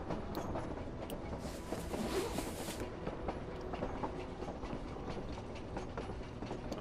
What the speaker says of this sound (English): I'm in a train.